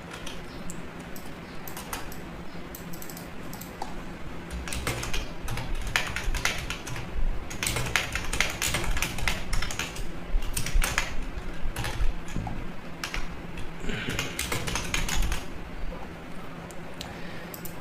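Typing on a computer keyboard, a close, continuous clatter of key taps with denser bursts through the middle, and no speech over it.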